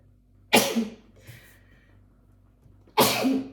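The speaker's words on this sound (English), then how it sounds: "excuse me, I'm going to sneeze." Two loud, close sneezes about two and a half seconds apart, each a sharp burst with a short trailing tail, separated by a quiet stretch with a faint breathy sound.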